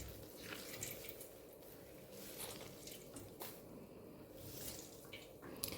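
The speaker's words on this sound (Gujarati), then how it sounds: "બધું પાણી આપણે નીચોવી લેવાનું છે પલાળીને બ્રેડને" Soaked bread slices are squeezed by hand to press the water out, giving soft wet squelches and drips close by, with no talking.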